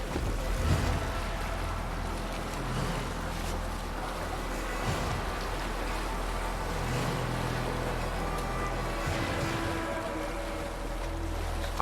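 A longship under sail at sea in Assassin's Creed Valhalla, with steady wind and water washing against the hull, a moderate continuous ambience without voices.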